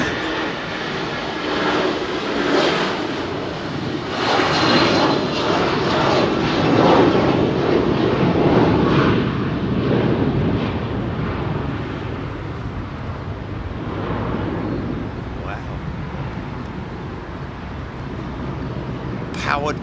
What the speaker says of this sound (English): Look at this 757 United.